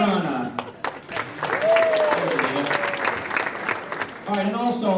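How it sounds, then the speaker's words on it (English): A banquet crowd gives a hall-of-fame round of applause, dense clapping that swells and sustains for several seconds while a voice speaks over it. "let's really give a nice round of applause for our association staff"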